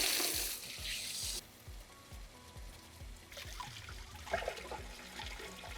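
Water pours and splashes steadily into a pond pump basin lined with decorative rocks, a close trickling hiss that changes in strength, with faint low thumps underneath.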